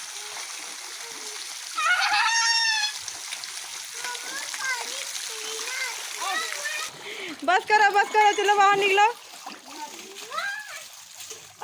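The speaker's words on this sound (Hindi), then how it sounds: "बच्चे इस तरीके से शावर का मजा ले रहे हैं" Children splash and play with water under a shower in a home courtyard, the splashing and spray mixing with excited kids' voices and an adult speaking over them.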